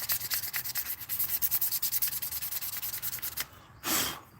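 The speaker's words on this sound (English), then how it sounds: "sanding sticks all day long" Wooden sticks being sanded by hand in a steady run of rapid back-and-forth rubbing strokes, close and fairly loud, ending with a brief pause and then one longer, broader scrape.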